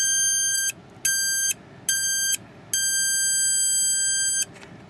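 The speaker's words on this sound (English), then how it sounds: "It's your standard buzzer speaker thing." A small piezo buzzer driven by a function generator sounds a loud, shrill, steady tone in four bursts of uneven length separated by short gaps, with a faint low hum beneath, close and alone.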